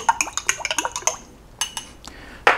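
A spoon stirs pine pollen into a drink in a glass, giving a quick run of bright clinks against the sides, a pause, then a few more taps and one louder knock at the end.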